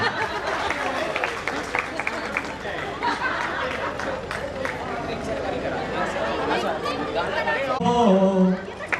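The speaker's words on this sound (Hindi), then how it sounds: "तालियां।" Guests clap throughout at a 25th wedding anniversary celebration, steady applause mixed with lively chatter and crowd babble, a brief tonal voice or music near the end.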